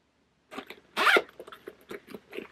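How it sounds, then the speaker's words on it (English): A metal zipper on a handmade fabric purse is pulled open in a quick rasping run, followed by shorter ticking zips and rustles of fabric, close and clear with no talking. "you have your functional zipper on this side"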